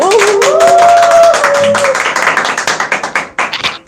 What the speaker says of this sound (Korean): 우리 조혜스 대표님 모시겠습니다. 박수!